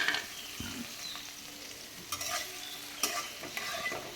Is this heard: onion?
yes